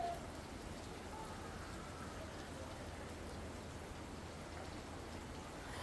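Heavy monsoon rain pours down in Ahmedabad's Thaltej area, where the streets are waterlogged. A steady, dense wash of rain runs loud and unbroken throughout.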